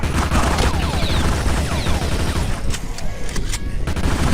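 Rapid, loud gunfire in the zombie game Dead Swarm, dense overlapping shots and bursts continuing steadily throughout the clip.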